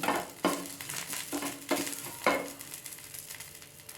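Curry leaves frying in hot oil for a fish curry, a steady crackling sizzle broken by several sharp stirring scrapes and bursts, close by with no talk.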